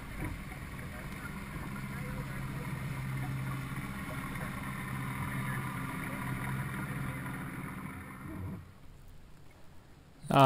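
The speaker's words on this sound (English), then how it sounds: "Here you can see one of the tour boats coming by us." A steady low engine drone of a tour boat moving nearby on a lake in Glacier National Park, holding constant before cutting off abruptly near the end.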